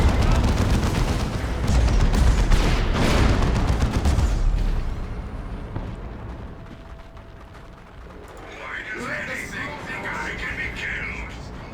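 Heavy bursts of plasma gun fire and booming blasts in the video game Dawn of War 2 crash for several seconds, then fade to quieter rumbling with a voice talking over the action.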